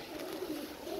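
Pigeons at a Bulgarian racing-pigeon loft cooing in a steady, continuous low murmur, fairly close, with no talk over it.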